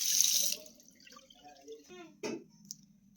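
Tap water runs loudly for about half a second while a hand is rinsed at a sink, followed by a few drips and soft handling sounds with faint voices in the background.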